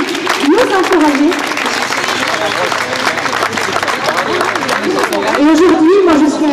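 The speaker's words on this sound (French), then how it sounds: "on peut peut-être encore applaudir les élus courageux qui sont venus aujourd'hui nous encourager" Crowd clapping at an outdoor protest rally in Paris against surrogacy, steady applause and cheering mixed with loud voices and chatter throughout.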